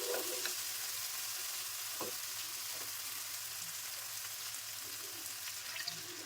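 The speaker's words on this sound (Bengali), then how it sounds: "এখন আমি জল দিয়ে দেবো" A fish curry masala with vegetables fries in a pan while water goes in, giving a soft, even, continuous sizzle with faint ticks and bubbling, fairly quiet and close.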